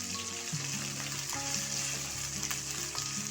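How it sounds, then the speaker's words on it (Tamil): Curry leaves and a green chili, along with onion, sauté in hot oil in a pan for white pumpkin sambar, giving a steady close-up sizzle with occasional crackles and scraping stirs. "இது கொஞ்சம் வதங்கட்டும்."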